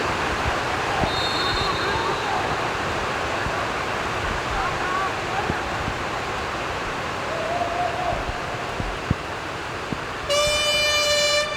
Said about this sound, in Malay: Jadi horn dibunyikan untuk menamakan di suku yang kedua.